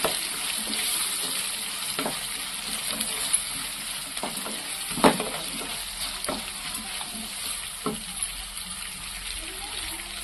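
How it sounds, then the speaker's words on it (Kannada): Onions frying in oil in a home kitchen while cooking mango chitranna, a soft steady sizzle with occasional clinks and stirring taps, with a voice talking over it. "ಈರುಳ್ಳಿಯನ್ನು ನಾನು ಎಣ್ಣೆಯಲ್ಲೇ ಕೆಂಪಗಾಗೋ ತನಕ ಬಾಡಿಸ್ತಾ ಹೋಗ್ತೀನಿ"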